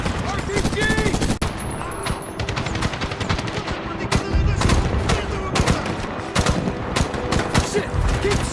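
Dense battle gunfire from Medal of Honor, with rapid machine-gun bursts and scattered rifle shots rattling continuously under shouted voices during an ambush.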